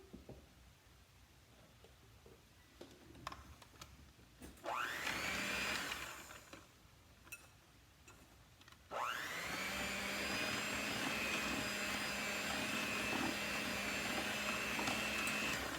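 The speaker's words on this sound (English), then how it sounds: "I'm going to go ahead and finish creaming that" An electric mixer creams chocolate chip cookie dough with added heavy cream, whirring loudly and steadily in a kitchen after a short earlier burst, with no talking.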